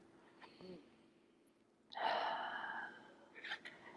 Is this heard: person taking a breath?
yes